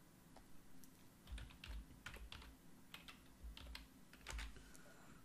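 Keys on a computer keyboard being typed at a steady, moderate pace, with clusters of close, crisp clicks and brief pauses, no voices present.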